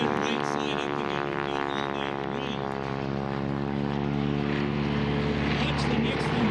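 A propeller airplane performing aerobatic stunts at an air show in Leesburg drones steadily overhead with a continuous engine hum, while an announcer talks over it.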